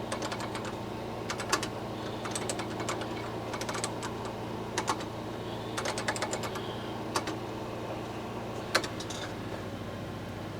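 Bursts of quick, light key clicks from a Kaypro 2 computer keyboard come in short clusters over a steady low hum, moderately close, typing on and off throughout.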